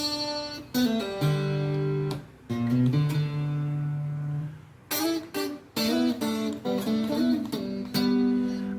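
A guitar plays the top line of a song's solo, a melodic sequence of bent and sustained single notes with a brief pause midway, clear and close.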